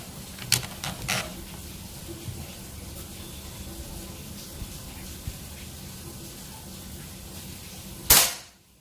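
Near the end, a compact folding PCP air rifle, 40 cm long and charged at 3000 psi, lets off one crisp loud crack that decays fast. Earlier, a few faint clicks and taps break a low steady ambience.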